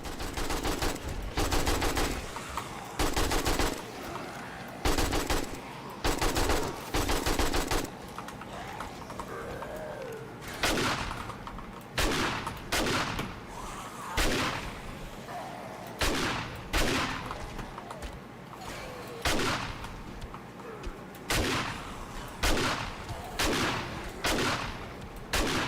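Gunfire from a shotgun and an AK in the survival video game 7 Days to Die, loud sharp shots repeating in irregular bursts and single blasts throughout, fairly close, with short pauses between volleys.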